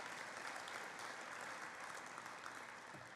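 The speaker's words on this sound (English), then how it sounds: "So let's all give them a big round of applause" Audience applause fills an alumni awards celebration, a steady dense wash of many hands clapping throughout, fairly distant and even, with no voices standing out.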